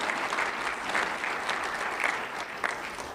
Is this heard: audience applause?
yes